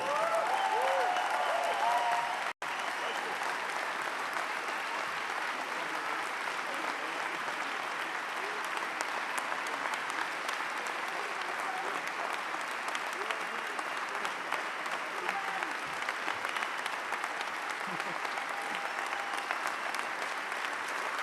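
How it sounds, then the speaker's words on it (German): A large audience at a Green party federal conference applauds after a speech, a sustained, even roar of many hands clapping, with a voice briefly speaking at the start before the applause carries on alone. "der Applaus jetzt"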